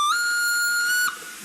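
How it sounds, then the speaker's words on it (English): A loud steam train whistle blowing one sustained shrill tone for about a second, then cutting off into quieter background. "that's a loud whistle"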